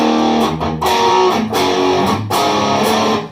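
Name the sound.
electric guitar through overdrive pedal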